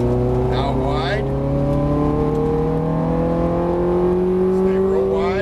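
A Ferrari engine accelerating on a track, driven at speed, gives a loud, sustained, rising drone that climbs steadily in pitch through the gears, with someone talking over it.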